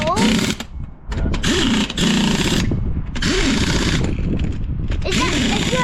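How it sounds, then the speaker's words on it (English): Bursts of a loud power drill whir in short spurts, broken by brief pauses, while people talk nearby. "is that the drill?"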